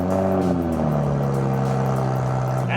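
Toyota Supra engine idling with a straight-pipe exhaust on the stock downpipe, a steady, loud, low rumble lasting throughout, close by, with no talking.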